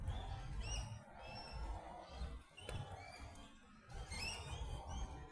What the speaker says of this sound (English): you can hear lots of bird life here